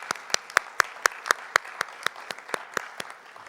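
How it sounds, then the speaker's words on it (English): At a university homecoming coronation, applause for the 2020 queen comes through as a regular, evenly spaced run of sharp claps, about four per second, fairly close over a soft crowd bed. "Let's give another round of applause for our 2020 Queen"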